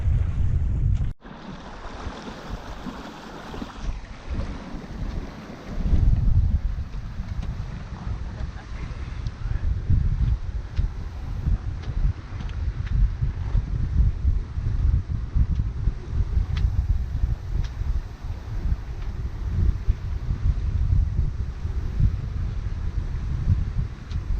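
Steady wind noise and rushing water aboard a Bavaria 41 sailboat under sail, broad and continuous, with a few bumps at the start before settling into a constant roar; no talking.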